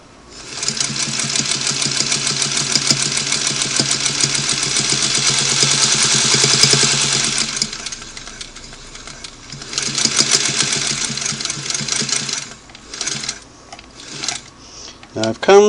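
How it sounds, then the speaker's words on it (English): Singer 301 sewing machine stitching a seam, driven by the foot controller: a steady, close mechanical whir for about eight seconds, a short pause, then further bursts of stitching ending in a few quick clicks. "we're going to use the foot controller to start sewing."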